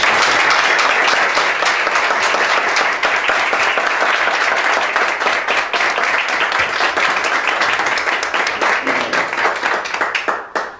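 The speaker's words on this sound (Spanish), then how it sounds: "le voy a pedir un aplauso de todo" Dense, sustained applause from an audience at a municipal council session fills the hall, loud and steady throughout before thinning out at the very end.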